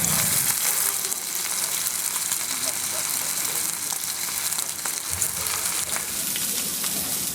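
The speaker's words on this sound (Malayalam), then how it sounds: "ഫ്രൈ ചെയ്ത് വെച്ചേക്കാം കേട്ടാ" Food sizzling and frying in a pan, a steady dense crackle and hiss that continues without a break, close and fairly loud, with faint voices now and then.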